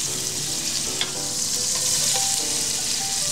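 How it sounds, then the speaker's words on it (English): Andouille sausage browning in frying oil sizzles with a steady, dense crackle and fine spattering, fairly close and even throughout, with a few brief clinks and pops over the hiss and no talking. "use the same oil to brown our andouille sausage"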